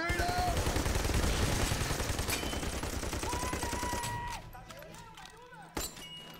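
Rapid automatic gunfire in Army of Two: The Devil's Cartel, fired down a hallway: dense bursts of shots that thin out and end with a sharp final report, while players talk over the action.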